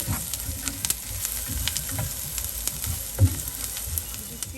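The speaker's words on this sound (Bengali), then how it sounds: "নেড়ে চেড়ে মিশিয়ে দিব।" Chicken pasta filling with chopped green chilies being stirred and mixed in a frying pan, a steady sizzle with soft scraping strokes and one brief louder knock, close by with no talk.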